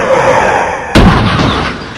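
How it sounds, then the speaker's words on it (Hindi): A car slamming into a huge tree on a dense forest road at night, heard as one sudden loud bang with a broadband impact burst midway, over a steady low rumble, with no talking. "एक जोरदार धमाके के साथ कार एक विशाल पेड़ से जा टकराई।"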